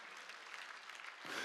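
An audience at a Sunday worship service in a church breaks into a short spell of steady, dense applause, faint and distant, swelling slightly at the end.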